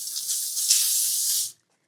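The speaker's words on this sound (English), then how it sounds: "To season them, we're gonna spray a little coconut oil" Coconut oil cooking spray hisses out of a can in one continuous, close burst lasting about a second and a half, then stops abruptly.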